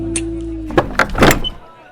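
A stairway door swings open in a short burst of knocks and scraping clatter that rises after a low steady hum, then settles back into quiet.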